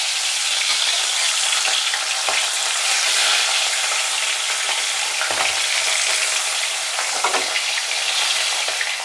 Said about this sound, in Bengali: এইভাবে মাছগুলো এখন ভেজে নেব